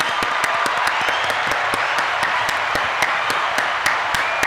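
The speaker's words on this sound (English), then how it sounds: "I'll give him a round of applause." A podcast audience gives a round of applause, a dense continuous clapping with individual sharp claps standing out, fairly loud and close, with no talking over it.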